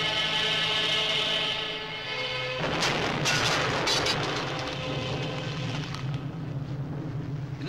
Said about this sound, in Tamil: நான் ஒண்ணும் பண்ணலையே, அதுவா வெடிச்சது.